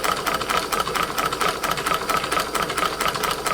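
A large hot air engine runs with a big Bix burner, giving a steady, continuous mechanical whirr with rapid rhythmic ticking and a faint tonal hum, moderately loud and unbroken throughout.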